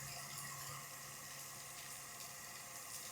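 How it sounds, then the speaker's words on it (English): Water flows from a severed supply line at a washing machine hookup, a faint, steady hiss and rush of running water with no break over a few seconds. "All right, we got water flowing."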